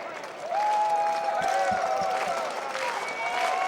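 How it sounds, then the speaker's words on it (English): A baseball stadium crowd in a Winnipeg Goldeyes vs Amarillo Thunderheads game cheers, shouts and claps steadily, a loud, dense roar sustained throughout with whistles and tonal calls rising above it. "As the crowd gets into it"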